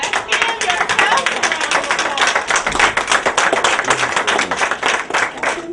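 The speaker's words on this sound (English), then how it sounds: "a round of applause" An audience at a spoken-word poetry and healing event breaks into loud, sustained applause, dense clapping close by for several seconds.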